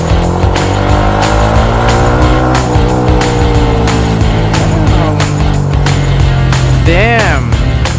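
A Yamaha XSR155 motorcycle engine revs hard and accelerates, a loud, close, continuous drone with rising pitch sweeps, heard from on board with wind noise and no clear talk.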